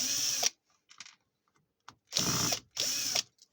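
A cordless screwdriver runs in a few short whirring bursts, close and fairly quiet, separated by silent pauses and small handling clicks while a circuit board is being opened for repair.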